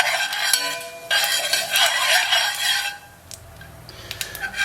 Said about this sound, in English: And then we're going to cook this until the chilies start to darken.